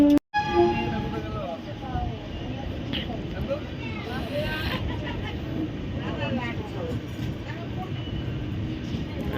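An LHB-coach Jagannath Express pulls out of Khurda Road station with a steady rumble of wheels and carriage noise, while passengers chatter nearby throughout.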